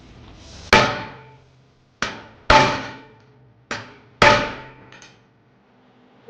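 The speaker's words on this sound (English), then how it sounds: "The CWB rep will then stamp identification markings on the test plate." Steel stamps are hammered into a steel weld test plate to mark it for identification: five sharp metallic strikes at uneven spacing, each ringing briefly before fading, loud and close with no talking.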